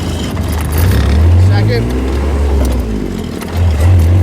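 A diesel golf cart with a hand-shifted clutch gearbox chugs loudly up close, its engine note dropping and rising as it changes gears, while someone talks over it.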